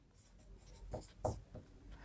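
Pen strokes on paper while a Class 10 maths answer about polynomial zeros is written out by hand, a few soft scratchy bursts close by against a quiet room.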